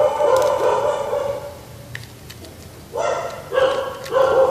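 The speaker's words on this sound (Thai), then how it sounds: "เนี่ยมีหมาเห่าด้วย" A dog barks repeatedly nearby during ribbon coin-folding crafts indoors, sharp separate yaps in short bursts over steady background hum.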